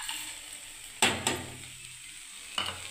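Vermicelli being stirred in a hot pan for a breakfast semai, a steady background sizzle broken by a few sharp scraping strokes of the spoon against the pan, close and fairly quiet.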